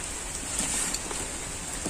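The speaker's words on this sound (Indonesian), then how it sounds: "Kita sudah sampai di Tanjung Pinggir nih, tapi situasi hujan." Steady rain falls at Tanjung Pinggir beach, a dense, even hiss with scattered drop patter, close and continuous, with no voices over it.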